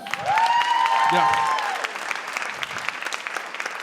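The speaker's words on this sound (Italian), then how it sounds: "Applauso." Clapping rises from a comedy show crowd to greet a comedian taking the stage, starting under a rising whistle and a shout, then settling into looser, scattered applause.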